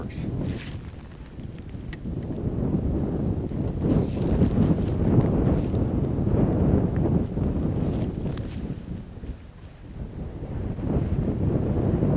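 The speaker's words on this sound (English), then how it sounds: "It is windy, so we're gonna do some practicing in the wind" Steady wind roars and buffets a microphone outdoors during antelope-hunting practice in southern Idaho, a loud continuous rush that swells and eases over time with no one speaking.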